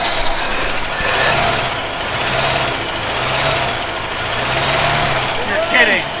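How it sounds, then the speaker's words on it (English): A 1966 Chevy El Camino engine idles nearby with a rough, uneven rumble and a light lifter tick, while people talk over it. "The lifter's a little ticky, but it's running on its own gas."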